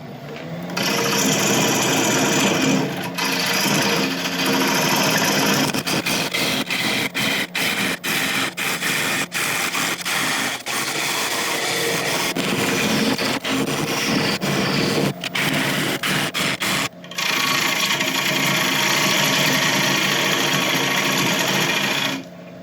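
A woodturning lathe spins a very hard apple log while a scraper clears out the lump, giving a loud, continuous high whine and rasp broken by rapid chattering bursts, close and with no talk.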